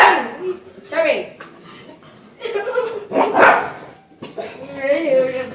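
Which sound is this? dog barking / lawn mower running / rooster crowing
dog barking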